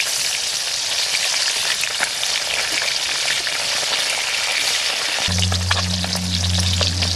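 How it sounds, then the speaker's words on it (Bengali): Fish fries in hot oil in a pan with a constant crackling sizzle. Partway through, a low steady hum comes in beneath the spattering and the frying carries on unbroken. "মাছগুলো একদম ভাজা হয়ে গেছে, এবার আমি মাছগুলোকে উল্টে দিচ্ছি।"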